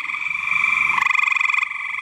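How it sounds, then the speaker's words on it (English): Gray tree frogs calling at night, loud close pulsing trills, several overlapping voices in a steady rapid rhythm with no talk. "Gray tree frog, one of my all-time favorite frog species."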